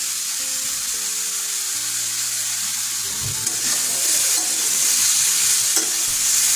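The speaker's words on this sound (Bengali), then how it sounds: "ভালো করে সবজিগুলো নাড়িয়ে চাড়িয়ে নিয়ে" Mixed vegetables for a vegetarian chorchori frying in a pan with turmeric and salt, sizzling steadily while a spoon stirs and scrapes through them, close and continuous.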